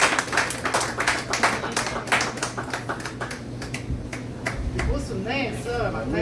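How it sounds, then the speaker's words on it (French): A cabaret audience applauds for Christelle Racine, with close, uneven claps that thin out toward the end while a voice talks over them. "Un bon applaudissement pour Christelle Racine."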